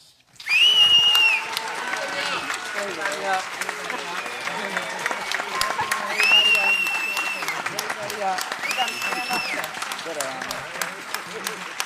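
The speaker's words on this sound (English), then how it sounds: "let's give a big round of applause for Len Lesser and our Cavalcade stars" A studio audience at a radio variety show applauds the stars, loud sustained clapping and cheering that swells at the start and carries on for several seconds while music plays along with it.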